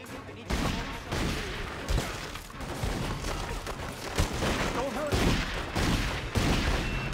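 Gunfire in The Godfather II video game, repeated loud shots and bursts at close range in quick irregular succession, with voices shouting over the shooting.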